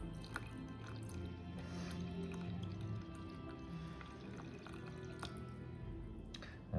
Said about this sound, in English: Gonna add 100 grams of water.